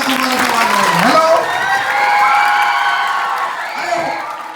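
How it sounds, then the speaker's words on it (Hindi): An audience cheers, whoops and yells loudly at a gathering, with some clapping and voices mixed into the noisy crowd sound. "तालियां भैया बजा दो तुम्हारे समाज में।"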